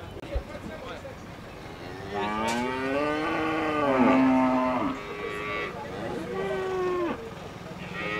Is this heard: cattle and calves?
yes